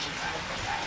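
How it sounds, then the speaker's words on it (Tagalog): Steady rain falls in a brief burst, a dense broadband patter with no clear pauses. "Parang malabong hihinto mga kababayan. Yung ulan."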